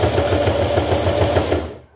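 A sewing machine runs steadily, set to a long, wide topstitch while sewing a zippered pouch, its rapid even needle rhythm close and loud for about two seconds before stopping abruptly.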